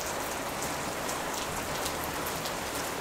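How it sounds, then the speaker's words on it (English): Heavy tropical rain during the wet season in Thailand, a steady dense hiss of downpour on surfaces, loud and continuous throughout with no voices. "it's raining so much this month"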